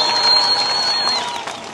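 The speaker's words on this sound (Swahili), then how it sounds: "Pigeni sana makofi" An audience breaks into clapping, a dense wash of many hands that holds steady and then begins to fade near the end, with a thin whistle-like tone riding over it.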